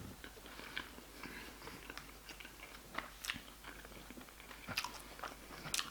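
Close, quiet biting and chewing of boneless chicken balti, with irregular crunchy bites and moist mastication sounds repeating over a faint room background.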